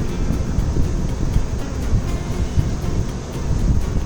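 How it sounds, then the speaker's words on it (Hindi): Steady roar of strong wind in rough weather aboard a cargo ship at sea, with low rumbling surges, constant and loud throughout. "ये इतना तेज़ हवा भी चल रहा है और वेदर इतना रफ़ है"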